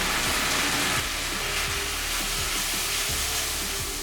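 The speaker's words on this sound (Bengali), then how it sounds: "দিয়ে দিচ্ছি আদা বাটা, আদাটাকে কষিয়ে নেওয়ার জন্য জল দিলাম।" Ginger paste fries in a pan after water is added for an amodi fish curry, giving a loud continuous hiss and sizzle with occasional soft low knocks from stirring, close up and without voices.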